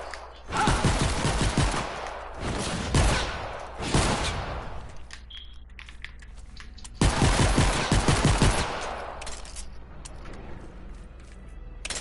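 Rapid bursts of pistol gunfire in a zombie shooter video game, loud and close, in several dense volleys separated by brief pauses.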